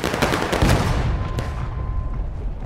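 Artillery cannon fire in the Civil War game War of Rights, a loud booming blast and rolling rumble opening the clip, decaying into a long fading echo.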